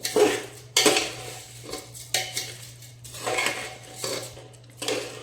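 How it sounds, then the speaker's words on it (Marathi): Rice being stirred with salt in a metal pan for matar pulao, several separate bursts of spoon scraping and clinking against the pan with quiet gaps between, close and clear over a low steady hum. "आता यामध्ये आपल्याला चवीनुसार मीठ घालून घ्यायचे आणि छान मिक्स करून घ्यायचे"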